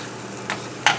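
A breadcrumb topping for baked clams oreganata being mixed in a bowl, heard as a steady soft scraping and rustling with a few louder stirring strokes near the end, close by and with no talk.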